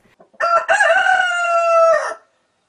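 A hen in a played video gives a single loud, drawn-out call lasting nearly two seconds after a few soft clicks, close and alone without talk.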